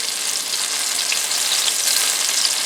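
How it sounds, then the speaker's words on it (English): Chicken pieces for General Tso's chicken get a quick first fry in hot oil, giving a loud, steady, dense sizzle that carries on unbroken with no voices. "You're only going for an initial quick fry."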